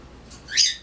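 A pet bird gives a single short, bright whistled call close to the microphone, rising sharply then fading, with no talk over it.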